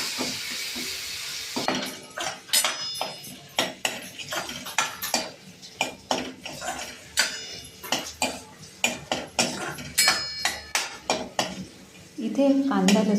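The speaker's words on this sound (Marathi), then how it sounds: "आता मिक्सरला वाटलेले वाटण पण फोडणी चांगलं परतून घेऊया." A spatula works ground masala paste through a hot tempering of mustard seeds, cumin and curry leaves in a pan for Katachi Amti. Close, repeated metallic scrapes and clinks come in an uneven rhythm over a faint sizzle, with no talking.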